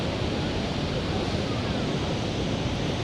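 Running water at Niagara Falls, a dense, even roar of rushing water filling the scene, loud and unbroken with a windy hiss, no voices.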